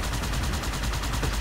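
Dense, steady gunfire from Halo 2 played on Legendary difficulty, rapid overlapping shots forming a continuous loud rattle with no pauses.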